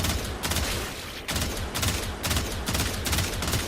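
Burst-fire rifle shots in the shooter game Warframe, from the Stradavar Prime or Tiberon Prime, come as loud, close clusters of rapid cracks separated by short pauses.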